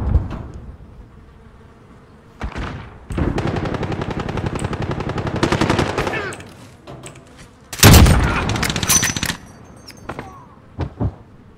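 Automatic and single gunfire from a Call of Duty Modern Warfare match, with sustained rapid bursts in the middle and a sharp loud volley near the end, followed by scattered shots.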